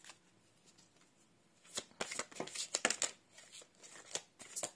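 Tarot cards are shuffled and drawn by hand: quiet at first, then a burst of crisp riffling, snapping and sliding cards up close, with no talking.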